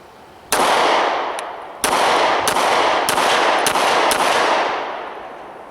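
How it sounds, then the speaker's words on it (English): A 9mm handgun fires Hornady Critical Defense rounds, then Ranger 127 +P+ defensive rounds: six or so loud, sharp outdoor shots at irregular intervals with long ringing decays, no talking. "We're going to shoot 3 of the Hornady Critical Defense, followed by 3 rounds of the Ranger"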